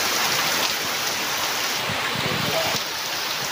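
Heavy May rain in the Konkan village of Ghosale near Roha, falling steadily as a loud, even hiss with a faint voice briefly underneath.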